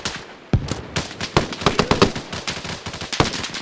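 Rifle and machine gun fire at a 75th Ranger training exercise: rapid, overlapping sharp reports in irregular bursts, close and loud, with no voices.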